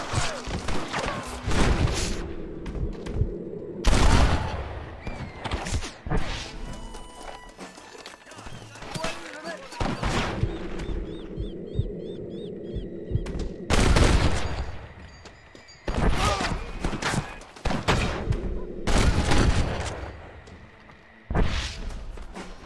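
A shootout in the video game Red Dead Redemption 2, with loud, sharp gunshots cracking out repeatedly in clusters and quieter gaps between them, while voices come through now and then.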